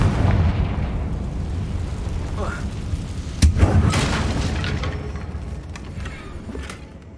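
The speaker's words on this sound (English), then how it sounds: "Confringo." Confringo explosion spells in Hogwarts Legacy go off as heavy booming blasts, with one strong burst early and a sharper, louder one midway, each trailing off into rumbling debris beneath in-game voices.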